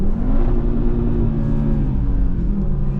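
A 2024 BMW M4 Competition xDrive drifting on a skid pad, its engine held at a loud, steady rumbling roar under throttle for the whole stretch, close up and heard without talk.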